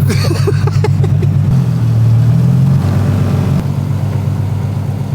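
A turbocharged Rocket Bunny V3 FRS pulling away, its mid-pitched engine note loud and close as it revs up, holds a steady tone, then settles back, with no voices over it.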